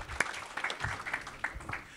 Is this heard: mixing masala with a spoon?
no